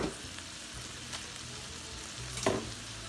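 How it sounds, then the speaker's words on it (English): Crab meat stirred in a pan of garlic butter sizzles with a quiet, constant frying hiss, broken by a few soft scrapes of the spoon against the pan. "Stir that around, let that crab meat get associated with some of those flavors in there, with that garlic, the butter."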